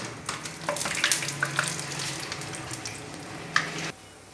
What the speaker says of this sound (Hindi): अब उसी ऑयल में हम खड़े मसाले डाल देते हैं। दालचीनी, मोटी इलायची, लौंग तो कड़ी पत्ता, ये वाले मसाले इसके अंदर डाल देते हैं।